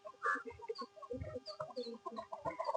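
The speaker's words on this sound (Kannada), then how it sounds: "ನೋಡಿ ಯಾವ ರೀತಿ ಎಲ್ಲ ನಮ್ಮ ಕೋಳಿಗಳೆಲ್ಲ ಬಂದಿದೆ" Several chickens cluck and murmur close by in short, overlapping calls, with no talking.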